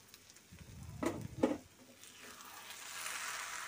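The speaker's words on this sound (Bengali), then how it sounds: "আবার একটু নেড়ে নিচ্ছি।" A spoon stirs beef biryani finished with ghee in a pot, making two firm scraping strokes close by, then a soft, steady sizzle rising as the cooking carries on, with no talk.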